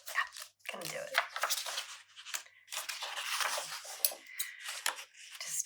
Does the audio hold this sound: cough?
no